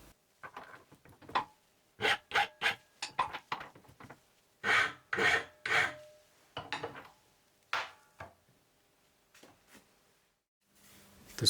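Metal block clamped in a bench vise being hand filed, a series of short rasping strokes in uneven bursts with pauses between, close and fairly quiet, no speech.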